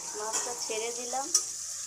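Fish slipped into hot oil seasoned with black cumin seeds sets off a steady close sizzle, with one sharp tick near the end.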